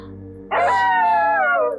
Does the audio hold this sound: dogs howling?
yes